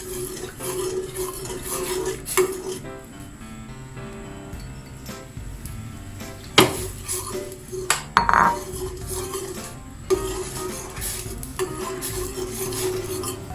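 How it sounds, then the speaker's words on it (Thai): Spoon scraping and stirring coconut cream as it simmers in a pot for Thai green curry, steady rubbing strokes with occasional sharp clinks against the pot, close and alone without talk. "เราเคี่ยวหัวกะทิให้แตกมันก่อนนะคะ เคี่ยวไปเรื่อยๆจ นเขาแตกมันนะคะ"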